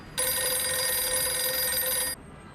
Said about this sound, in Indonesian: Sejenak kemudian, telepon berdering